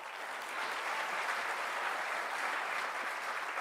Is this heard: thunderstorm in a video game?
no